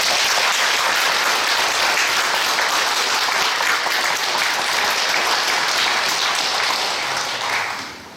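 A church congregation gives sustained, dense applause that fills the room steadily for several seconds before tapering off at the end, with no voices over it.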